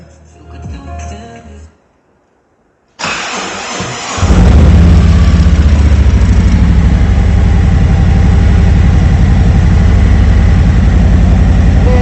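2017 Harley-Davidson Street Glide 107ci motorcycle starting up, a brief crank and then a loud, deep, steady idle rumble close by, after some earlier handling noise and a short silence.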